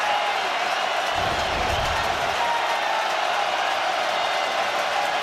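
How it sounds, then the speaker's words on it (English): A large stadium crowd roars during a Chiefs at Ravens NFL night game, a steady wall of cheering and noise from start to finish, with a commentator's voice faintly underneath. "This crowd is up."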